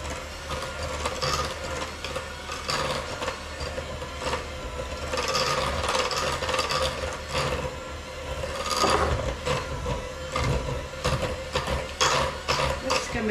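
Butter pumpkin cookie dough being mixed, likely by an electric mixer: a steady whirring mechanical drone with rattling, ratchet-like clicks that swell now and then, and no talking over it.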